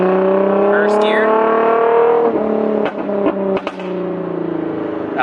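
A Nissan G35/350Z accelerating hard in first gear: a loud, steady rising engine drone, then a few sharp exhaust pops and crackles as the revs drop.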